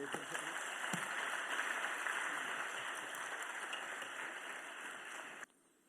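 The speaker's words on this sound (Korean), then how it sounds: "우리 열렬한 박수로 환영해 주시기를 바랍니다" A church congregation at a Wednesday service applauds warmly to welcome a visiting pastor. The dense, sustained clapping of many hands continues steadily for over five seconds before stopping abruptly.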